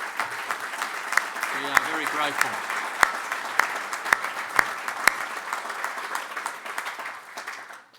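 A crowd at a National Press Club debate event in Canberra applauds steadily and fairly close, with sharper individual claps standing out while someone speaks over it.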